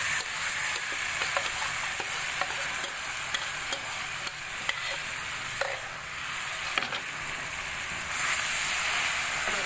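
Cumin sizzles steadily in hot butter for baingan bharta, with a constant frying hiss and scattered scraping taps as a spoon stirs the pan.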